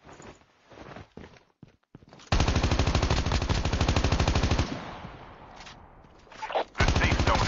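Rapid automatic gunfire in a Call of Duty battle royale match, a long sustained burst of close shots followed by quieter movement and another short volley, with a voice speaking briefly.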